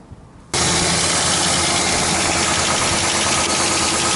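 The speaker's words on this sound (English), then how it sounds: "Conditioner works well." A Ford car's air conditioner kicks on abruptly after a quiet moment, then runs as a loud, steady blowing rush of fan air with a low engine hum beneath.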